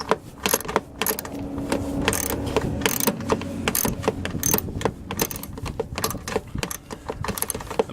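A socket ratchet clicks rapidly as it loosens a 10mm bolt on a Cub Cadet 3X 26-inch snow blower, with steady pawl chatter and metallic clinks close up, plus a dull mechanical rumble underneath.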